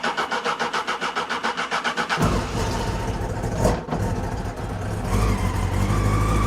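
A Honda CB600 Hornet motorcycle with the choke on cranks with a rhythmic starter churn for about two seconds, then catches and fires into a loud, rough idle that keeps running.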